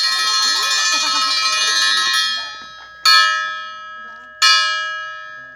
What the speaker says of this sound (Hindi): ये डाउन की घंटी